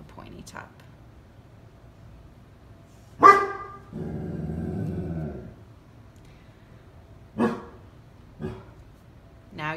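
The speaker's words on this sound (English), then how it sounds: "Sorry, that's my dog. He likes to bark at nothing." A dog barks in short bursts in a quiet room, a few sharp yaps spread through the stretch, with a voice talking between them.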